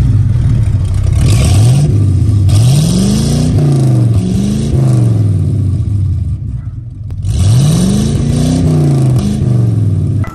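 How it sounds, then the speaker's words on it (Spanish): A car exhaust with a Magnaflow muffler revs repeatedly, its loud engine note rising and falling in several throaty sweeps, with a brief dip before a final rev. "Proseguimos con este escape de la marca Magnaflow."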